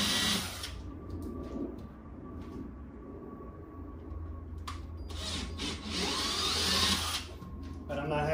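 A power drill whirs in short bursts while boring holes in the rear of a C6 Corvette to mount a rear spoiler, loud and close, starting and stopping.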